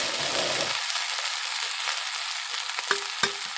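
Mutton fried rice is stirred and mixed in a hot pan, giving a steady close sizzle. A few sharp spoon scrapes and clicks stand out toward the end.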